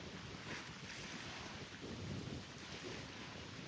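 Steady wind rushes and buffets the microphone on a beach at Unisan, a continuous low roar with faint surf underneath.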